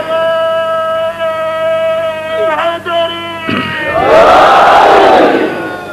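After a single voice holds a long, tonal call, a large congregation at a Shia majlis erupts into a loud unison religious slogan, swelling and then dropping away.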